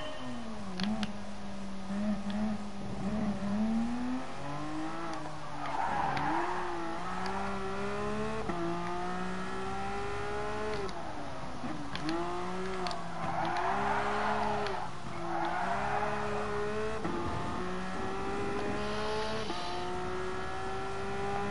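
A Porsche race car driven around the Nürburgring in Gran Turismo Sport, its engine droning steadily and swelling and dipping with the shifts, close and loud, with a voice heard briefly now and then.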